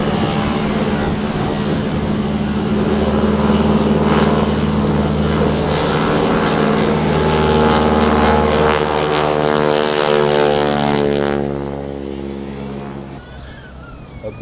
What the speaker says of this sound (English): a gleaming World War II advanced trainer called the T-6 Texan takes off with the kind of zoom that Rosie the Riveter might have heard from